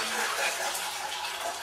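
Cold water running from a tap into a pot holding a poached egg, a brief close steady splash and rush of water, alone with no talk.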